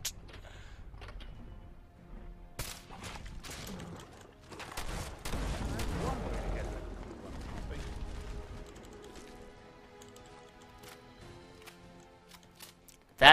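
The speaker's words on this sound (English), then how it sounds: "That VATS headshot crit with this sniper is knuckin' futz." Scattered gunfire cracks across a Fallout 4 firefight as a sniper rifle lands a headshot, isolated sharp reports spaced irregularly with a busier, denser stretch in the middle and a loud burst at the very end.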